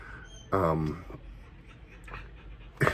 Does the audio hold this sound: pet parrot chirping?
no